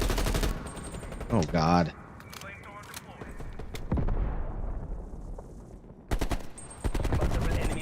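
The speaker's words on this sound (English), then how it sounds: "Multiple enemy sentry turrets active." Sentry turret gunfire in the game Maneater: loud bursts of rapid shots and impacts come in clusters with gaps between them, and a man's short exclamation is heard in the mix.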